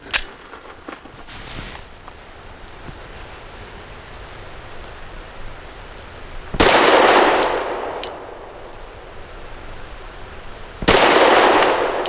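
A Zev OZ9C Hyper Comp pistol fires Centerfire Next Generation 100-grain lead-free ball ammunition: a few loud, sharp reports spaced seconds apart, each with a ringing tail, over faint outdoor background noise.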